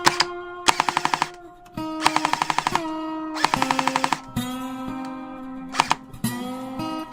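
A G&G L85 airsoft rifle, an SA80-style gun over ten years old with a known semi-auto fault, fires in rapid buzzing bursts of clicking shots, separated by short pauses, with a steady motor whine beneath and no talk.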